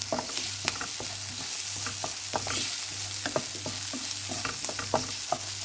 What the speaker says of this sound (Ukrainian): Цибульку смажу постійно помішуючи.